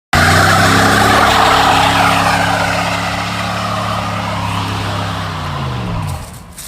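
A 1994 Pontiac Firebird Formula with an LT1 V8 holds a loud, steady idle and rev close by, its pitch sliding down as it dies away near the end.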